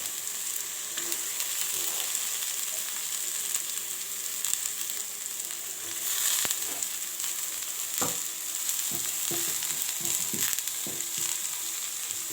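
Green peas frying and being stirred in a pan, a steady close sizzle with scattered clicks and scrapes of the spoon, alone with no talk.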